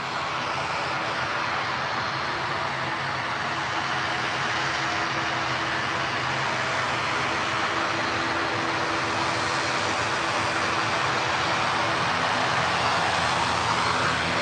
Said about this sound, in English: This beautiful 787-8 on its way down the taxiway.